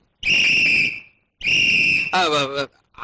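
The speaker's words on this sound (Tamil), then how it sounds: "விசில் எனக்கு ரொம்ப பிடிக்கும்" A whistle is blown in two long, shrill, steady blasts separated by a short gap. The second blast ends in a warbling, trilling tone. The sound is loud and close.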